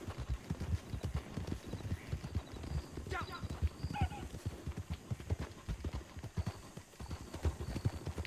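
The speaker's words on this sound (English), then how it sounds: "Go ahead and whistle for your horse so he can follow you" Horse hooves clip-clop in a steady trotting rhythm in Red Dead Redemption 2, close and continuous, with a brief whinny in the middle and ambient outdoor background.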